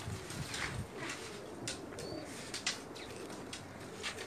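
Pigeons coo softly on a rooftop in Pakistan, low repeated calls blending with faint chirps and a steady outdoor background hiss.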